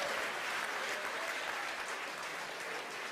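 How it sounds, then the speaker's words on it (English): Steady crowd clapping rolls on at SpaceX headquarters in Hawthorne, California as a Falcon 9 flies, an even, moderately distant applause texture with no pauses. "you hear the applause here from SpaceX headquarters in Hawthorne, California"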